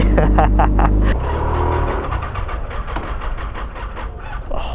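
Kawasaki Ninja ZX6R sport motorcycle being ridden, with loud revving engine pulses in the first second giving way to a steady rushing wind-and-engine roar.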